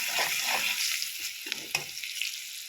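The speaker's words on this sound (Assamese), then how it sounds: "নিমখ, হালধি তেলতে দিয়ে দিছোঁ।" Salt and turmeric sizzle in hot oil in a kadai, a close, steady frying hiss broken by a few sharp stirring clacks and scrapes, with no voices.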